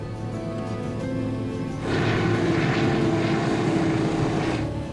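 Propeller airplane engines, flown by a veteran Alaska bush pilot, hum steadily before surging into a louder, throbbing roar as they throttle up to takeoff thrust, holding near and strong.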